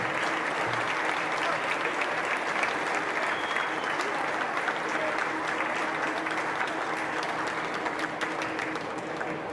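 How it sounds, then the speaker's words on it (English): Steady, dense applause from an arena crowd as showmanship contestants enter a county fair ring, sustained and even throughout without letting up. "Give them a big round of applause as they come into the arena,"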